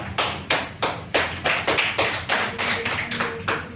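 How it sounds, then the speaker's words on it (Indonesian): A classroom of students claps together for a classmate: about a dozen sharp, evenly spaced hand claps in a quick unison rhythm, close and clear, with no talking. "Beri tepuk tangan untuk Najwa"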